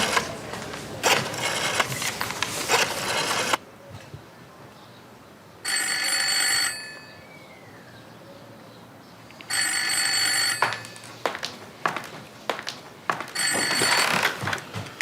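An old-fashioned telephone bell rings in bursts inside a home, several loud, buzzy trills separated by short pauses, close and alone with no talking.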